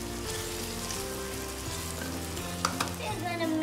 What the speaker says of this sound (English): We're gonna mix it well